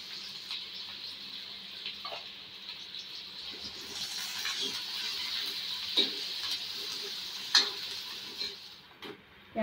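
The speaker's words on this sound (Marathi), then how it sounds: "आता कांदा लसूण आपण छान परतून घेऊया" Crushed garlic and finely chopped onion fry in hot oil in a home kitchen, giving a steady close sizzle with occasional clinks and scrapes of stirring.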